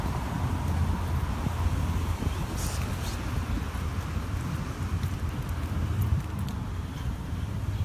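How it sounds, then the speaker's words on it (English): Wind blowing outdoors by a flag at a fire department building in Asbury Park, a constant broadband rush with gusty fluctuations and faint intermittent clatter, steady throughout. "There's a nice wind going through right now, so the flag is flying"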